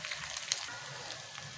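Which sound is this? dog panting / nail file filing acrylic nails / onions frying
onions frying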